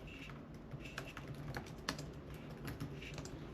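Rapid, steady keystrokes clatter across the keyboard of an MSI Stealth 16 AI+ laptop, a close, continuous run of light clicks with no voices.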